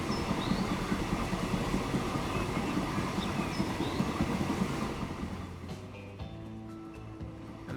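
Trains in Transport Fever 2 rolling through a forest, a steady dense rumble of wheels and carriages that thins after a few seconds to quieter mechanical clanks and hum, with faint birdlike chirps early on.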